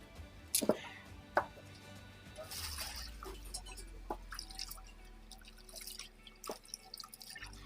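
Water drips and splashes while an old wooden mortar is rinsed clean, giving a few sharp, close taps and spatters over a low, steady background rumble.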